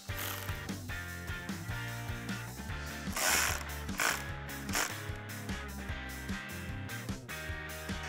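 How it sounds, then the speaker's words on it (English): A T25 Torx bit turns in short ratcheting clicks to tighten a Rough Country ditch light mount on a 2021-2022 Bronco, close and fairly quiet, with a few brief louder scrapes mixed in. "tighten it down with your T25 Torx bit."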